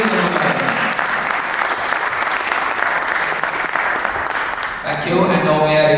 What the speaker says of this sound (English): Please put your hands together and give round of applause for Mr. Suresh Jambunathanji.